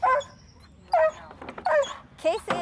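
A dog barks excitedly while digging in a yard, giving several short bursts at intervals, with people talking over them.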